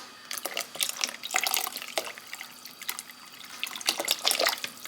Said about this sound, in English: So basically all together so far it's 4 cups of broth. And I'm just gonna add 1 to 2 more cups.